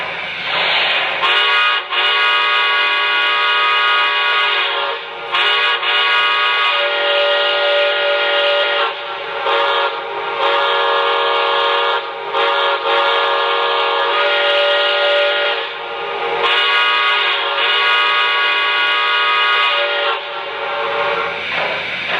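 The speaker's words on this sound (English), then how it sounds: "let's check out the whistle, and this engine does have the whistle steam smoke effect" A Lionel Brass Hybrid Mikado model steam locomotive's whistle blows loud and sustained in long drawn-out blasts with brief breaks, a breathy hiss running under the tone throughout.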